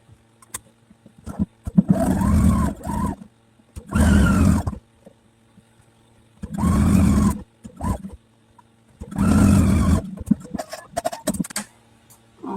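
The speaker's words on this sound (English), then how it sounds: "So let's sew these 2 together." A Husqvarna Viking sewing machine stitching quilt patches together, running in four distinct bursts of about a second each, separated by short pauses, close and fairly loud with no talk.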